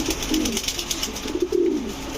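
A female Gola pigeon coos in two soft, low rolling phrases close by, with steady background hiss and no talking.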